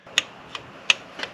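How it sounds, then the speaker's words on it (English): A torque wrench ratchets on bolts of a neglected luxury SUV engine, giving four sharp, close clicks at roughly even intervals over a faint background hiss, no talk. "Now I will use my torque wrench to torque all of them except for the one on the bottom"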